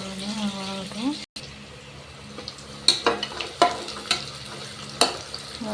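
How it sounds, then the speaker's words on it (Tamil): Onions sauté in a pan with a soft, steady sizzle, broken by a brief dropout and then by sharp scraping strokes of a spoon at intervals. A voice talks briefly at the start. "வெங்காயம் வதங்கட்டும்."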